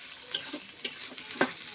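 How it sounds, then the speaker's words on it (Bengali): Ghetkol (taro-family greens) being stirred and fried with spices in a pan: a low steady sizzle broken by three sharp scraping strokes of the spoon, close and fairly quiet, no voices. "এবার ভালো করে এটার সাথে মশলার সাথে মিক্সড করে নেব ঘ্যাটকলটা।"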